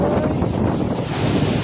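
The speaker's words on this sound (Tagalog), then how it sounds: "Lakas ko ng hangin" Strong typhoon wind from Typhoon Uwan batters the microphone at an exposed landing pad, a loud, continuous roaring buffet with no break across the whole moment.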